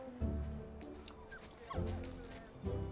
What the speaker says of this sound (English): Is your dog friendly?